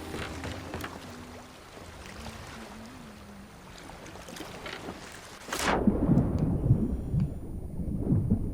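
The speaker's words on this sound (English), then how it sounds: "I can hear a storm is coming." A storm approaching at night at sea in Sea of Thieves: low rumbling thunder and wind build beneath a faint tonal drone, then a sharp crack gives way to a louder, heavier rolling rumble with rain-like hiss.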